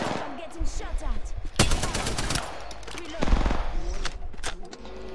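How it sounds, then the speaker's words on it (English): Automatic gunfire in Apex Legends rattles in rapid bursts, with louder volleys near and fainter shots between, under a player's voice talking. "I'm getting shot at."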